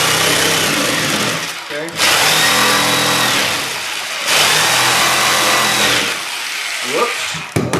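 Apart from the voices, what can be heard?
Jigsaw cutting out a toilet floor flange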